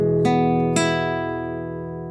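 A recorded acoustic guitar with its high EQ frequencies boosted rings out in sustained chords, two bright finger-plucked attacks cutting in close together before the tone slowly decays.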